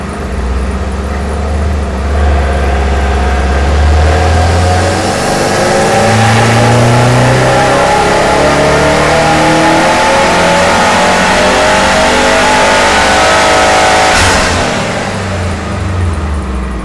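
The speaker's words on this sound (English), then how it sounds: "So this is the relatively new MY18 STi. I wanted to show you what it looks like on the dyno." A 2018 Subaru WRX STI engine is run hard on a dyno, revving loud and close in repeated rising and falling pulls with no one speaking.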